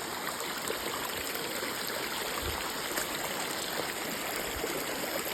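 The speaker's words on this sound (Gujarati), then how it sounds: "કેટલો ધોધ જાય છે" Water gushes through a village channel whose embankments have been broken, a loud, steady rushing roar that holds constant throughout with no talk.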